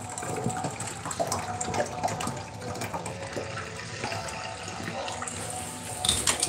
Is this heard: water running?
yes